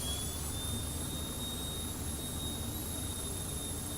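Jet engine of an airliner in a flight simulator game, a loud, even roar with a thin steady whine on top, continuous and unchanging for the whole stretch.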